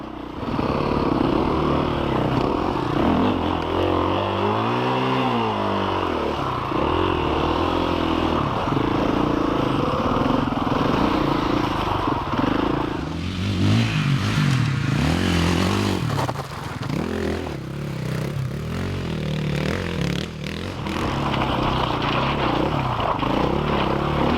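A KTM 500EXC enduro motorcycle labours through a rough hard enduro transport section, its engine loud and continuous with repeated revs, bogs and throttle blips, plus scraping and clattering over rocky ground.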